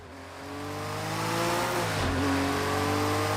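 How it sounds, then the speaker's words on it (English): A Jaguar race car engine in a racing video game revs up steadily, a rising drone building in loudness over a few seconds with a brief dip as it shifts, heard alone without talk. "Oh, the sound of the Jaguar."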